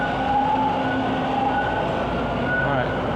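A TTC subway train pulls out of a Toronto station, a loud, close, steady rumble with whining motor tones rising throughout.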